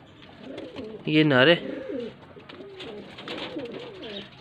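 Pigeons kept as low-flyer stock in Faisalabad give a brief, close, rolling coo, with softer cooing afterward, as someone talks throughout in Hindi.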